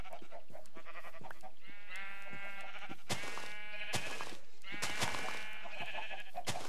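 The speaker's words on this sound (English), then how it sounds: "Sheep." Sheep bleating in a blocky survival video game, several loud, wavering bleats overlapping one another in quick succession, close by and with no talk.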